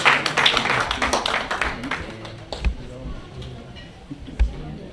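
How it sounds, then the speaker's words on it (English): Audience clapping at a national stakeholders symposium as panelists walk on stage, a dense burst of claps that thins out after a couple of seconds into scattered taps. "Let's clap for them as they come on stage."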